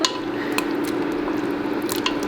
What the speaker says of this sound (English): let's add the raw seafood in. We'll give her a stir.